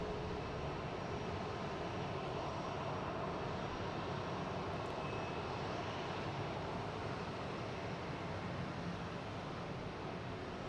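A Delta airliner landing at Boston Logan Airport produces a faint, distant, steady jet roar that holds evenly throughout with no talk.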